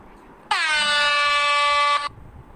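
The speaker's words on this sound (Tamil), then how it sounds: "மேலே ஏர் ஹார்ன் MP3 அப்படின்னு இருக்குது" A downloaded air horn MP3 sound effect gives one loud, sustained blast of about one and a half seconds that starts and stops abruptly, alone over near silence.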